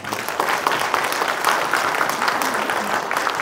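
A forum audience claps steadily for three presenters, a dense even patter of applause lasting a few seconds without pause.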